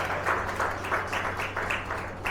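An audience claps loudly and steadily at a public speech event, the applause dense and continuous throughout with no voices above it.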